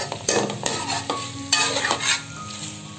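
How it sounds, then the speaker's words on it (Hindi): Chopped tomatoes for chicken jalfrezi are stirred and fried in a pan, giving a steady close sizzle broken by several sharp scrapes and clinks of the spoon against the pan. "हमने टमाटरों को शामिल किया है जो एक काट के रखा था"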